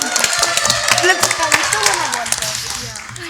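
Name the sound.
applause for quiz team LFIM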